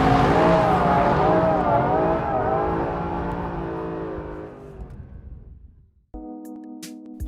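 Mercedes SLS AMG Black Series V8 roaring loud and close on a circuit as its tyres slide through a long drift, the engine note gradually easing off, followed by a brief lower idle-like drone at the end.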